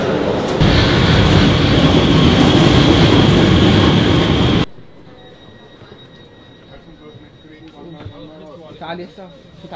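A train ride with steel wheels rumbling loudly on the rails and a steady roar, then a sudden drop to a quieter carriage interior with faint squeals and clatter.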